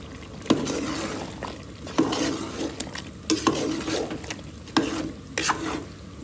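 Potatoes and garlic being sautéed for a beef curry, a metal spoon scraping and knocking against the pot every second or so over a low, continuous sizzle.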